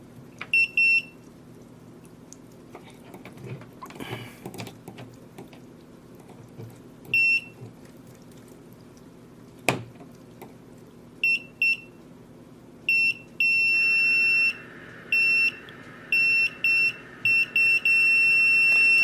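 A Tesmen TCM-300D clamp multimeter beeps during a continuity check on a wire, a string of short, sharp electronic tones that stutters on and off and then holds longer toward the end, over faint background noise.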